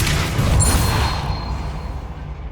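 A Depulso force spell cast in the video game Hogwarts Legacy lands as a loud, broad whooshing blast at the start, then fades slowly into a rumbling tail over a couple of seconds.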